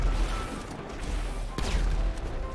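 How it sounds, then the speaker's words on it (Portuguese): Gunfire in the online game GTA V during a car-versus-RPG shootout, with a sniper present: dense, busy bursts of shots and a sharper crack near the middle, over a steady low rumble. "O Zé tá atirando no chão, mano."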